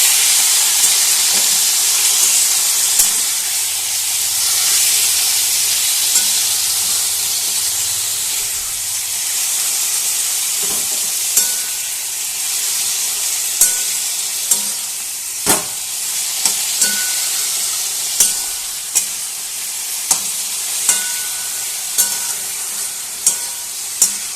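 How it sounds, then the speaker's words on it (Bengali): Boiled taro leaves being stirred in a frying pan: a steady loud sizzle and steam hiss runs throughout, with scraping knocks of the stirring utensil growing more frequent toward the end, no talking. "সেদ্ধ করে রাখা কচু শাক ভালোভাবে নাড়াচাড়া করে নেবো"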